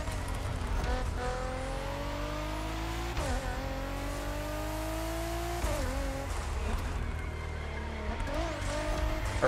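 Nissan R35 GT-R Nismo in the racing game The Crew Motorfest, its engine revving and shifting through gears with rising pitch sweeps and tire squeal, steady and moderately loud throughout.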